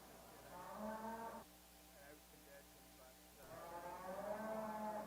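Cattle at an Angus show, with two long, loud moos separated by a quieter pause filled with faint show-barn background noise.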